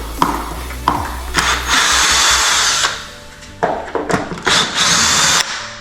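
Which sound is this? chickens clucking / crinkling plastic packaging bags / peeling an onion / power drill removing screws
power drill removing screws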